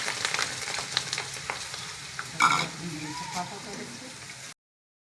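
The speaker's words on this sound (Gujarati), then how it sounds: "ડુંગળી તળવાનું છે." Onions frying for chevdo, a close crackling sizzle with stirring scrapes, while a voice talks over it before the sound cuts off.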